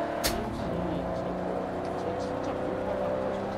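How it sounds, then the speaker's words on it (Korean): An AMC hatchback fitted with a V8 OHV engine revs in the Forza racing game, giving a loud, continuous low engine drone with steady harmonics that holds throughout, plus a brief sharp click near the start. "그 해치백에서 나오면 안 될 소리가 나고 있어."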